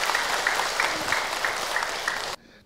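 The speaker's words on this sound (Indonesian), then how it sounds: "Tepuk tangan buat Ibu Hajah Unayah" An audience at an Islamic religious lecture applauds in a dense, steady wash of clapping that cuts off sharply after about two seconds.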